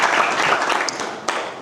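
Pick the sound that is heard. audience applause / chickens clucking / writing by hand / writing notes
audience applause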